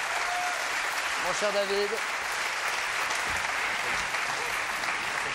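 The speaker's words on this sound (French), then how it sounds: "Applaudissements pour lui." TV studio audience applauding steadily in a French talk show, dense continuous clapping throughout, with a host's voice briefly speaking over it.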